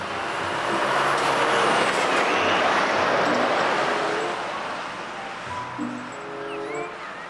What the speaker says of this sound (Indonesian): Wih, truk towing besar.